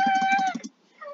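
A cat meows in a played talking-cat video: one drawn-out, clear, fairly loud meow followed by a brief fainter tail.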